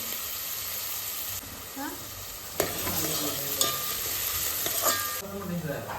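Bhakri flatbread laid on a hot pan, a continuous frying sizzle with sharp clicks and scrapes as it is handled, someone speaking intermittently over it.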